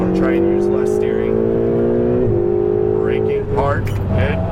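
A Ferrari 488 on a race track holds a loud, steady engine drone with a smooth rising pitch, dips briefly as it shifts and then climbs again, while a voice talks over it.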